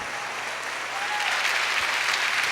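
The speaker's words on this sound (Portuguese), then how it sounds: "Pode aplaudir, é muito bom" Steady crowd applause fills the whole stretch, a dense even patter of many hands at a parish gathering led by a priest, with no voices rising above it.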